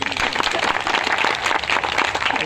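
A crowd claps and applauds steadily throughout at a Hindi comic poetry gathering, a continuous patter of many hands at moderate loudness.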